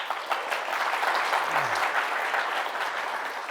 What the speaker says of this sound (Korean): 근데 박수는 좀 한 번씩 쳐주세요.